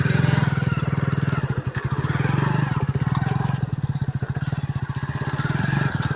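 A motorbike rides through farm fields near a village, its engine a steady, loud, pulsing putter close by that swells and eases throughout, with no talk over it.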